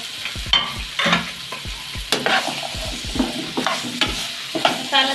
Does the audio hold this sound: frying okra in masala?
yes